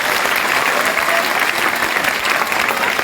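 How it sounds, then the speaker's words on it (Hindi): A school-hall audience claps loudly for a member of parliament at a government secondary school event, dense continuous applause throughout. "बिरला के लिए जोरदार तालियां बजाइएगा।"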